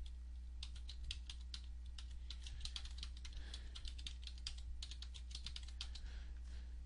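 Steady run of light clicking keystrokes on a computer keyboard while a root password is entered during a VMware vSphere ESXi 4.0 host setup, close and fairly quiet over a constant low electrical hum, with no talking.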